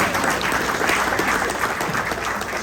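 An audience at an American Legion honoring ceremony breaks into sustained applause, a dense continuous patter of many hands clapping at once, steady and fairly loud without pause.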